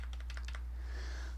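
A computer keyboard jostled on a lap gives a quick cluster of several plastic key clacks and rattles, close and fairly loud, followed by steady background hum.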